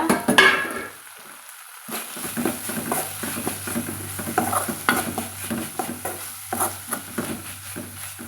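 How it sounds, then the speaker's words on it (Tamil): A vegetable poriyal with coarsely ground coconut and cumin being stirred in a pan, with repeated scraping and clattering strokes over a soft sizzle, close up and fairly loud, with no talk. "நம்ம இப்போ காயை திறந்து பார்த்து கலந்து கொடுக்கலாங்க"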